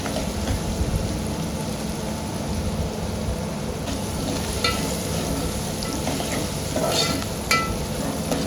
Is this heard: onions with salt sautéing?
yes